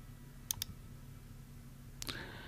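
Mouse clicks on a computer navigating the Windows 11 Ease of Access Center: a quick close pair of sharp clicks, then a single click a moment later, over quiet room hiss.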